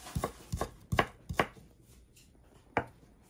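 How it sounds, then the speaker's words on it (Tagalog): A knife slicing leftover chicken on a cutting board: sharp, close thuds, about six in quick succession, then a pause and one final cut, with no talking. "Hiniwa-hiwa lang guys para mas masarap."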